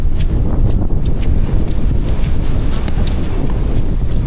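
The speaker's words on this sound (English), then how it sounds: "it's windy" Wind blows hard into the microphone outdoors in Cambodia, a constant loud low rumble with rustling flutter and no talking.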